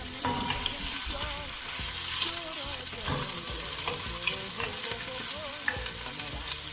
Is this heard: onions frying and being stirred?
yes